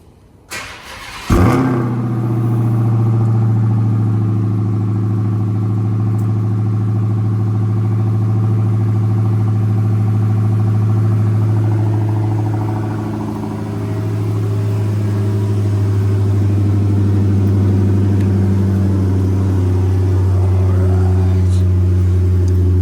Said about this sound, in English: It is a cold start.